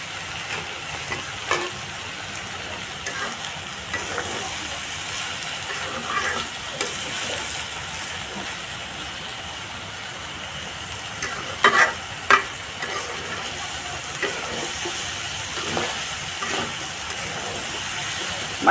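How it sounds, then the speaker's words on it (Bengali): Potatoes and fish roe frying in a pan, with a steady soft sizzle and hiss under occasional scraping stirs and a few sharper clatters of the spatula, moderately close. "মাছের ডিম দিয়ে আলু দিয়ে এভাবে কাড়া কাড়া ভেজে খান"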